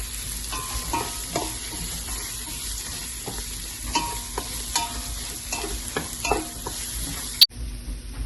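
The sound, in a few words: sauteing chilies, grated ginger and garlic in a pan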